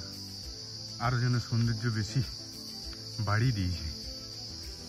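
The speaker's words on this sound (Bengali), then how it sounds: "একটা ঝিঝি পোকার ডাক শুনতে পাওয়া যাচ্ছে আস্তে আস্তে" Crickets chirp in a forest near a dam, a thin, steady high-pitched trill running through the whole clip at a moderate level beneath someone talking.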